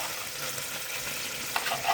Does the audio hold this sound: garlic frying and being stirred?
yes